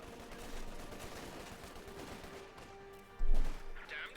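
Bren light machine guns fire in Company of Heroes 2, a World War II strategy game, in a dense distant battle wash of bursts and impacts, with one louder close burst near the end.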